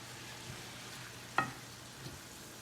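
Shredded cabbage sizzles softly with light soy sauce in a hot pan, a quiet steady frying hiss broken by one sharp utensil scrape against the pan.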